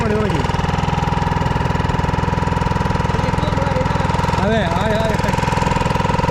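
A boat's outboard motor running steadily on a trip to an island, a loud, close, throbbing mid-pitched drone, with a voice briefly speaking over it.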